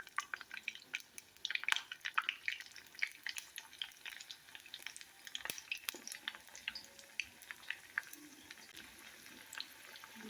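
Banana flower vadas fry in oil over medium heat, giving a quiet, steady crackle of small pops and drips with sporadic sharper spits.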